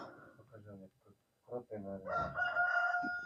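A rooster crows loudly nearby in a farmyard barn, a long drawn-out call that follows a few clucks and soft talking.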